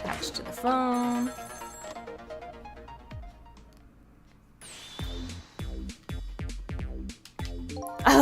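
Telephone ringing in a video game, a bright electronic ring tone repeating over game music and other sound effects.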